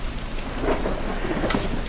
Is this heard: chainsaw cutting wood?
no